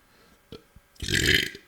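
A single loud, drawn-out belch sounds close to the mic, after a couple of small mouth sounds.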